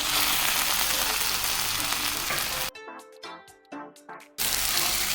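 Chopped tomatoes hit hot frying masala for a Kerala-style chicken fry, setting off a loud, dense sizzle that briefly drops away to quieter crackles midway before surging back.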